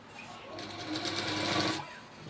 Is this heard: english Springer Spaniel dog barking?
no